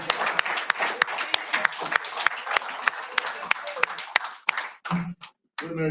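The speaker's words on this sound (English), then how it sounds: "Give them a round of applause." An audience at an event honoring a coach breaks into sustained applause, dense clapping filling the room for several seconds before it thins out and a voice begins speaking.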